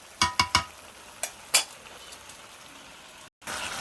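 Chicken and potatoes are fried and stirred for kosha, with a quick run of sharp utensil clinks against the pot at first, then a softer scrape over a low, continuous sizzle.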